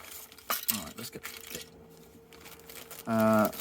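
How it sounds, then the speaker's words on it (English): Thin plastic bag crinkling as an Airfix 1/43 scale Aston Martin DB5 starter model kit is unpacked, rustling on and off in short bursts with clinks of parts, then a louder crackle near the end. "Let's get this out of the bag. Plastic bags."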